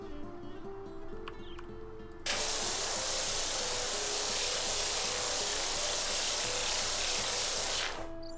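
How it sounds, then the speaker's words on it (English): A loud, steady hiss of a pressure washer spraying water in the video game PowerWash Simulator starts abruptly and runs for several seconds before cutting off, close and continuous. "It's thirsty work spraying all this water."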